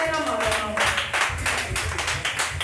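A church congregation in a revival service claps together in quick, steady rhythm, with voices rising alongside the applause.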